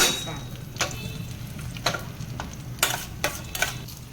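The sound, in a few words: frying in a pan, stirred lightly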